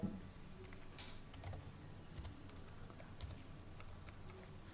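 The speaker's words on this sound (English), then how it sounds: "enter the IP address over here. Type in exactly the way I've showed you." An IP address being typed on a computer keyboard, with a quick, irregular run of close key clicks over a quiet room hum.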